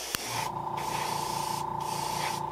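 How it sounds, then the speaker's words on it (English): An aerosol can sprays lime paint over a fishing lure in a steady, close hiss that runs almost continuously with short breaks. "I'm going to spray the whole rest of this bait with lime."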